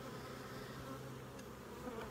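Honey bees hum in a steady, dense buzz at an open, recently split beehive on a ranch, with no voices over it.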